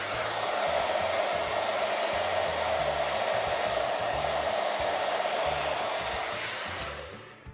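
A hair dryer on low heat blows in a steady, continuous whoosh close to the mic while drying curly hair, then winds down near the end with no talking.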